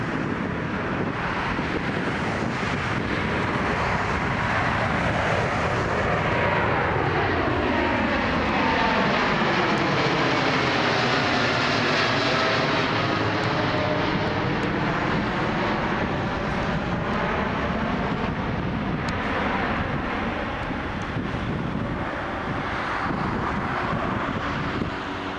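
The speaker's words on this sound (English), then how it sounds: "Here we go. Ethiopian Airlines going 787-8 Dreamliner." Ethiopian Airlines Boeing 787-8 Dreamliner taking off, a steady loud jet roar throughout with a sweeping pitch shift as it passes the viewpoint, wind buffeting the microphone, no voices.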